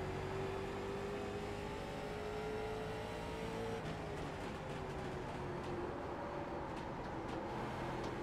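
Late model race car engine in iRacing at North Wilkesboro, a continuous loud hum that slowly climbs in pitch as the throttle is fed in gradually, with faint clicks near the end.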